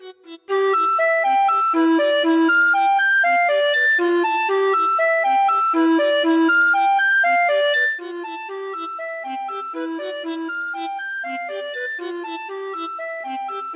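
Bangdi, a Chinese bamboo flute, played in an iOS instrument app, sounding a bright, reedy melody of quick stepping notes that is loud and continuous and then slightly softer in the second half.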